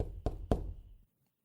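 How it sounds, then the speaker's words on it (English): Two light, close knocks on a wooden door in quick succession, crisp and evenly spaced, followed by silence. "knock lightly on the door"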